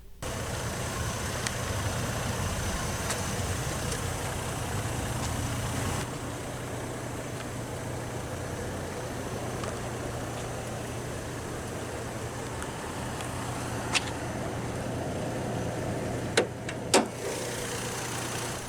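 A 2007 Saab 9-7X with its 4.2-liter naturally aspirated Vortec 4200 inline-6 idles steadily, a low, even engine hum that stays faint and constant, with a few small clicks near the end.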